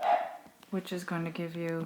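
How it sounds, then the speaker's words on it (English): A household dog lets out a single sharp bark at the start, followed by someone talking at a moderate level indoors. "sorry about my dogs, they keep barking"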